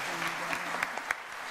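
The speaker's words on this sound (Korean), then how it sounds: "큰 박수로 부탁하겠습니다" A church congregation claps together in steady applause through a short stretch, with a few sharper individual claps standing out and a faint voice underneath.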